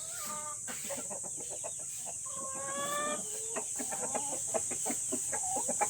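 Light Sussex hens clucking at laying time, a series of close, drawn-out rising clucks and squawks repeated in bursts over a steady background hiss.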